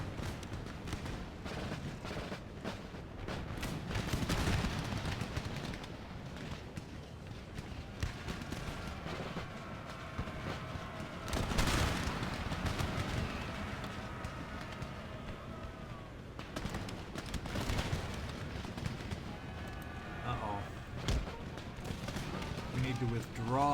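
Heavy artillery fire in the PC strategy game Empire: Total War with the Darthmod mod during a large battle: several dull booms, near 4, 11 and 16 seconds, roll over a constant busy battlefield din.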